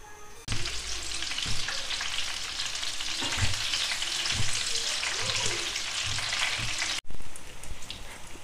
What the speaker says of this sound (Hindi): फ्लेम को हम मीडियम टू लो कर लेंगे और इन्हें फ्राई कर लेंगे।